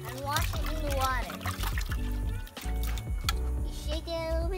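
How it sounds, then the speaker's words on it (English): A feed box is dipped and sloshed in swamp water, giving intermittent splashes and trickling drips close by, while a child and an adult talk over it throughout. "We put this one and wash it in the water."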